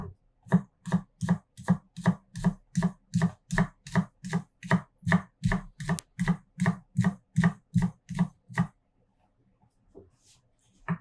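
A knife chopping shallots on a cutting board, about twenty crisp, evenly spaced close chops in a steady rhythm, stopping abruptly and leaving quiet.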